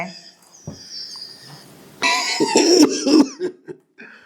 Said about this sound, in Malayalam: ഈ ചുമ എന്നെ കൊണ്ടേ പോവും.